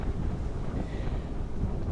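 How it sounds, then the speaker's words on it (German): Strong wind buffets the microphone outdoors on open heath and moorland, a steady loud low rumble that persists throughout with no voices. "Zwar ein bisschen windig heute"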